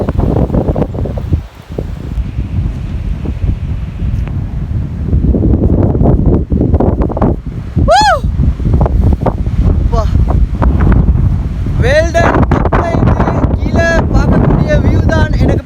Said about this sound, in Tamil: அவ்வளோ வேகமான காற்று